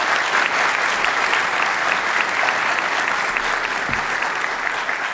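Audience at a debate on the resurrection of Jesus clapping for the debaters, dense steady applause from a full hall lasting about five seconds.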